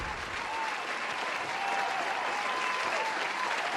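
Dense, steady applause from a live podcast audience, a broad continuous wash of many hands clapping at close range, holding even in loudness throughout.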